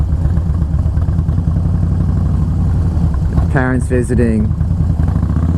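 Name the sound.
motorcycle engine while riding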